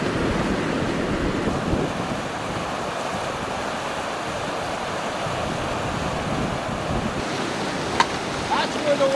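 A flooding stream in Nez Perce County rushes steadily in a broad, loud wash of turbulent water with wind buffeting the microphone and a faint tonal sound near the end.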